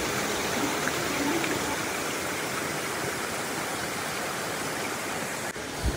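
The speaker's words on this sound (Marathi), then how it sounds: "या सगळं पाणी जाता शेतात आमच्या" Water rushes steadily into a farm field in Konkan, a loud, continuous broadband flow that holds level without pause and with no voices over it.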